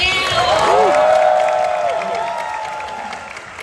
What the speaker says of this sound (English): Round of applause for Sam.